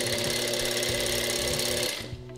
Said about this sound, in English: So when you sew, you're gonna start it right on the edge there and pull really tight